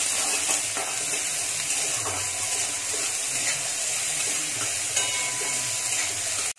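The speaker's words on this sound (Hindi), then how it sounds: "कढ़ाई में पहले हम प्याज को ब्राउन होने तक भून लूंगी।" Onions frying until brown in a kadhai make a steady, dense sizzle close by that runs evenly throughout and then cuts off at the end, with no talking.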